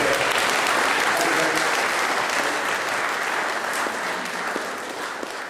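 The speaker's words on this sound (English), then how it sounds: "I think that deserves a round of applause" A large audience breaks into loud, dense applause that carries on steadily for several seconds and tapers slightly toward the end, with a faint voice underneath.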